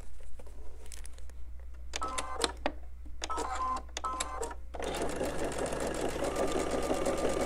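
A sewing machine joins two quilt blocks, first in a few short bursts with pauses, then in a steady continuous run, close and loud over a faint hum.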